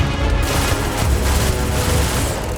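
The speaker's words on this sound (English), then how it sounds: "These are high-powered electromagnetic induction ballistic arrays" Electromagnetic induction ballistic weapons firing in Starfield, a loud, dense volley of rapid shots and booms packed tightly together without pause, heavy and close throughout.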